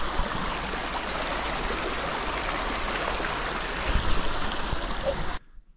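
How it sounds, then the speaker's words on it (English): Snowmelt stream along a Yosemite trail near Taft Point early in the season, rushing steadily and close by as a continuous broadband wash of flowing water with no voices. "it's pretty early in the season here, so a lot of water still flowing through"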